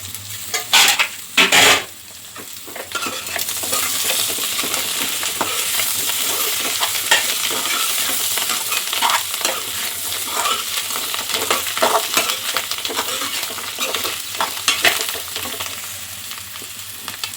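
Chicken fry sizzles steadily in a pan while being stirred, with a couple of louder scrapes and clatters of the utensil early on, then continuous frying and stirring close up.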